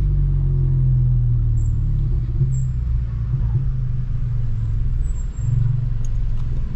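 Audi car driving with steady, loud low engine rumble throughout, cabin perspective, with a brief dip near the end; no talk.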